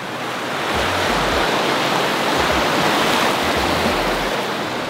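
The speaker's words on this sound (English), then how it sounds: "look how fast the water is moving" Fast-flowing river water rushing beneath a footbridge in Pakistan, a loud, steady broadband roar with no pauses, close and continuous like heavy surf.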